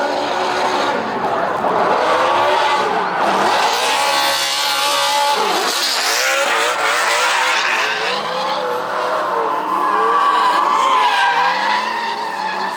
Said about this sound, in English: Here's a clip of Jerry drifting right now.